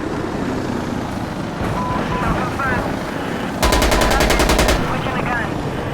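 Rapid automatic gunfire bursts in the video game Insurgency Sandstorm, a loud close stream of evenly spaced shots lasting about a second, preceded by a quieter distant battle ambience with scattered shots and faint voices.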